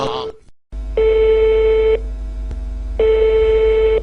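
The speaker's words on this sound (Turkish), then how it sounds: "Rot Türkü'ye telefon şakası başlıyor" A telephone ringing tone on an outgoing prank call to a water-delivery company: two long, loud ring bursts of about a second each, separated by a pause, after a brief voice at the start.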